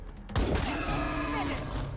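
A single sharp Wasteland 3 gunshot cracks out with a deep thump, then rings off into a reverberant tail that fades over a second or two.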